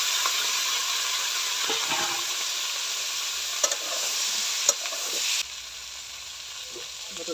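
Food frying on a traditional clay village stove, a steady loud sizzle with a few sharp clinks of stirring, the hiss dropping lower near the end.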